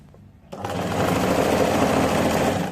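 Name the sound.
sewing machine sewing sleeve fabric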